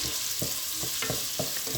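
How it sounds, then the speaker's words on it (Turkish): Onions and garlic sautéing over low heat in a pot give a steady close sizzle, with regular scraping thumps from continuous stirring punctuating it about every quarter second, and nobody speaking. "kısık ateşte böyle sürekli karıştırarak soğanlarımı güzelce pembeleşene kadar kavuracağım"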